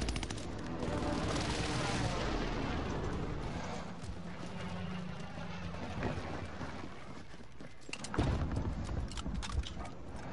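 Rapid video game gunfire during a team firefight, dense bursts of shots layered over a busy game soundscape with a sharp louder burst near the end.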